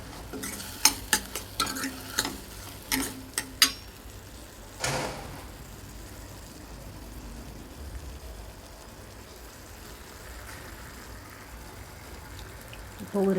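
Curry leaves dropped into hot oil with onion and tomato for traditional kathamba sambar, a few sharp clinks of a spoon on the pan at first, then a soft steady sizzle that fades to a low bubbling.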